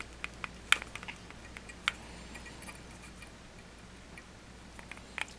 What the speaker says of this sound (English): I'll trim that stem off.